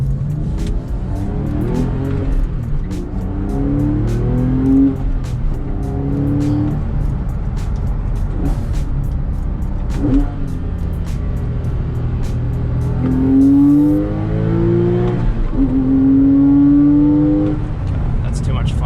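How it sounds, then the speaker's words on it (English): A BMW E30 drifting revs hard, its engine rising and falling in repeated climbs, with tire squeal and loud close-up motor roar throughout the run. "This car is so easy to rev match in."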